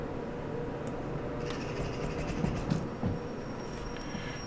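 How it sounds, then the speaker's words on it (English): A freight train in the railway simulator game Derail Valley slows down, with a steady rolling rumble, faint wheel clatter and a thin high metallic squeal of braking, heard alone throughout. "we'll leave the train slowing down there"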